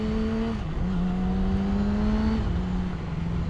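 A motorcycle engine held at a steady drone, then a quick throttle blip during a clutchless gear shift, the pitch dipping briefly and settling again, loud and close with no talking.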